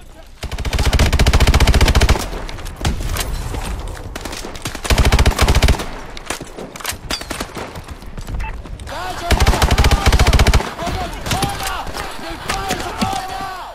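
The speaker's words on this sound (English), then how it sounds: "Oh, you're shooting at the window." Call of Duty: Advanced Warfare gunfire aimed at a window crashes in loud repeated bursts of automatic shots, with short pauses and a person talking in between.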